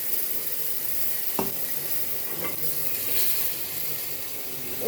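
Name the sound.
water sizzling in hot frying pan making French toast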